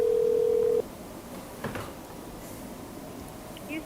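A recorded telephone call to a news network's line: a steady ringback tone sounds for under a second, then drops to a quiet, hissy open line with faint clicks.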